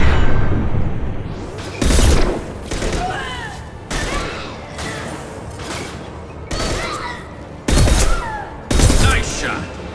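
Heavy gunfire in the video game Mass Effect 2: a few loud, sharp bursts spaced a second or two apart, with quieter shots between and a voice talking intermittently.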